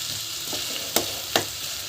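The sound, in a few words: eggplant sautéing with spices in a pan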